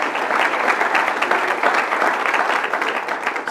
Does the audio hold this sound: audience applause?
yes